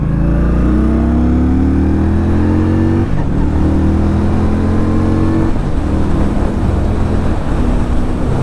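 A 2020 Indian Scout Bobber Sixty motorcycle accelerates hard on a test ride, its loud engine rising in pitch through gear changes, a steady close roar with no talk.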